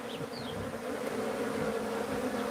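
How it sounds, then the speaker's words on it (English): A swarm of killer bees in a house soffit in Arizona makes a loud, steady, close buzzing drone that continues unbroken throughout. "They're all killer bees in the state of Arizona."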